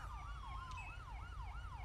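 Police and ambulance sirens wail in the video game GTA with the LSPDFR police mod, a rhythmic rising-and-falling electronic yelp repeating steadily over a low engine hum, faint and alone.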